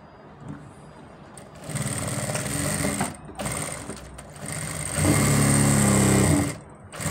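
Close and loud, a sewing machine stitches the back panel of a ladies' pants fabric in a steady mechanical whir. Several runs of stitching of varying length are separated by short pauses.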